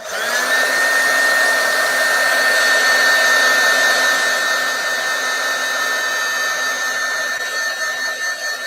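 A handheld heat tool or hair dryer blows steadily on a freshly stamped heart in a card-making demo, a loud continuous whine and rush holding for the full length without pause.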